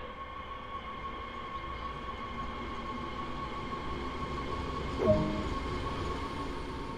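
Train Sim World 2 multiple-unit train pulling away, a steady low rumble and hum of traction and rolling wheels building gradually, with a brief squeal or click midway, no talking.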